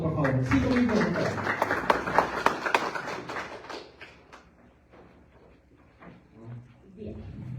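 A formal audience applauds a candidate in a hall, the clapping loud and busy at first and then thinning into scattered claps and light rustling, while a voice talks over part of it.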